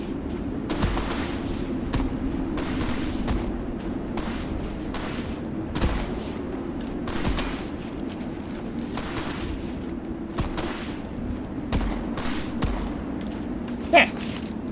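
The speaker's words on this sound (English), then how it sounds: "This pistol's so chunky, it's hard to see over it when I'm shooting" Pistol shots in the video game Metal Garden, a dozen or so sharp reports spaced irregularly over a constant low game drone, fairly loud and close.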